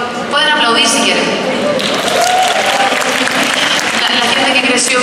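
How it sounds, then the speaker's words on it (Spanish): An audience at a Comic Con convention panel claps loudly and continuously, a dense wash of applause that rises quickly and holds steady throughout, with some voices mixed in. "pueden aplaudir si quieren"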